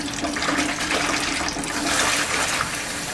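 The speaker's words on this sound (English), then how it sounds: "So I add some cool water." Cool water pours steadily into a basin of hot washing water, a continuous close gush and splash, running alone without pause.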